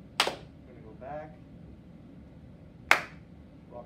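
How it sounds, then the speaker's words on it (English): Children in grades 3-6 clap during an Electric Slide line dance to Achy Breaky Heart, giving two sharp claps a few seconds apart while an instructor's voice speaks between them. "And we're gonna clap after each slide."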